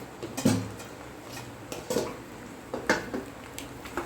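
Pasta being stirred with egg, chilli flakes and oregano in a pan, a few separate scraping knocks of a utensil against the metal spaced about a second apart, close and clear with no talk.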